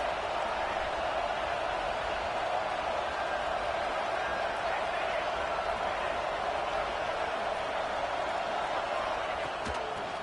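A stadium crowd at a college football game roars steadily, a dense, continuous wall of noise that stays loud and unbroken throughout, with no distinct voices standing out above it.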